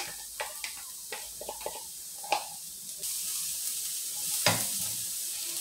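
Chopped onion and garlic frying in olive oil, a soft continuous sizzle with scattered crackles and spatters that grows louder and denser partway through, heard alone without talk.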